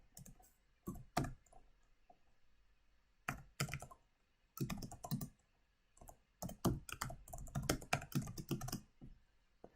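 Rapid bursts of typing on a computer keyboard as code is entered, clustered keystrokes separated by short pauses, close and fairly loud, with no talking.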